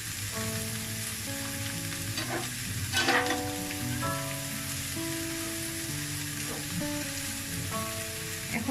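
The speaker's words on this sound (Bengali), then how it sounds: "ডিমগুলোর সাথে সবজিগুলো খুব আস্তে আস্তে সাবধানে মিক্সড করে নিব, যেন পড়ে না যায়।" Vegetables and eggs sizzling and frying in a pan for a winter vegetable stir-fry, a steady crackle with occasional scrapes and clinks of a utensil stirring, while tonal music plays underneath.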